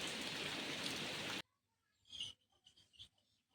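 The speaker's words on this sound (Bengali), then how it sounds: "এই বৃষ্টিটা হচ্ছে আর এখনও হবে বলছে খবরে" Heavy rain pours down in a dense, loud hiss for about a second and a half. It then cuts off abruptly, leaving near silence broken by a few faint rubbing and scraping noises.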